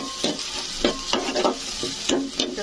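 Prawns and onions stir-fry for a curry in a hot pan. A close, steady sizzle is broken by repeated scraping stirs at a quick, uneven rhythm.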